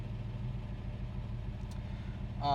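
A 1967 Ford Mustang GT K-code engine idles just after starting with a low, steady rumble close by, ending with a brief burst of higher-pitched noise.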